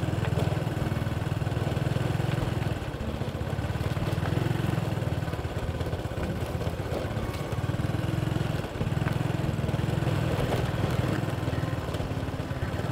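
A small farm engine, a tiller-type machine plowing a rice paddy in the Vietnamese countryside, chugs steadily and loudly at close range, with a continuous low rumble and rattle and no talk over it.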